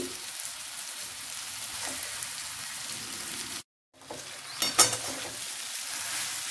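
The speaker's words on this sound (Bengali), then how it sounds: "এটাকে খুব ভালো করে নাড়াচাড়া করে এর মধ্যে মিশিয়ে নিতে হবে" Potato is stirred in a hot frying pan for aloo chop, giving a steady close sizzle with light scraping, a brief silent break midway, then the frying hiss resumes with a couple of sharper spatula knocks.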